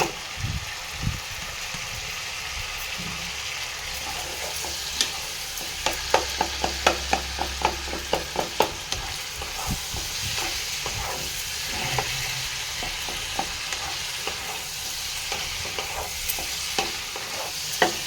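Potatoes fried and stirred in hot oil with tomato for a Bengali aloo-tomato dish, a steady sizzle with repeated scraping clicks of the spoon against the pan, close and continuous with no talk.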